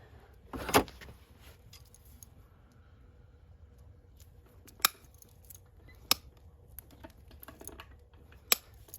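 Hoof nippers clip a show hunter's hoof while it is trimmed for aluminum horseshoes, giving a few sharp, isolated snips spaced several seconds apart against a quiet background, with no talking.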